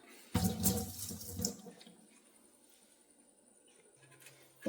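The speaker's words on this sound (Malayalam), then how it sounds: "നമ്മൾ ഇതൊക്കെ ഒന്ന് കഴുകിയെടുത്തു നമുക്ക് അരിഞ്ഞെടുക്കാം" Vegetables are washed under a running kitchen tap: a loud splashing gush lasting about a second, then quieter water and faint handling noises nearby.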